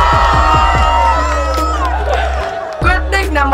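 A street crowd cheering, whooping and clapping loudly at a public matchmaking show, with energetic voices shouting over the noise and a brief dip before the cheering rises again.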